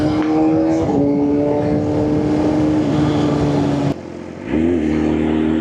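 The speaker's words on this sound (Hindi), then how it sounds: "ये है पहला गियर, 6ठे से पहला गियर" A loud BMW S1000RR motorcycle downshifts from sixth to first gear, its engine note dropping in steps with a brief dip before a rising blip, continuous and close against wind rush.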